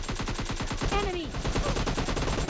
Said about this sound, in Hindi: अब यहाँ पर शायद आपको M4 चलने की आवाज़ आ गई होगी, जो कि इन्हीं का टीममेट चला रहा था